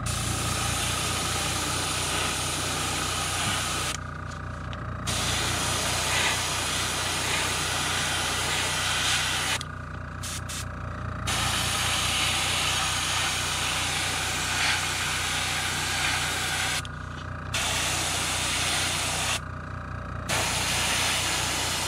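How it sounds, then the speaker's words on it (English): An airbrush sprays white paint onto a custom-painted crankbait, giving a steady close hiss and compressor drone that cuts out briefly several times between bursts, with no talking. "So next up, we're going to come back and we're going to spray white straight through."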